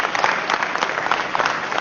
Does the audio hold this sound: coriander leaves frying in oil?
no